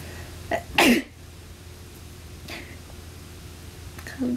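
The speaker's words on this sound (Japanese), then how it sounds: "くしゃみして。" A single sharp human sneeze from a person with hay fever, close and clear at about one second, preceded by a short inhale and followed by quiet room tone with a few faint small sounds.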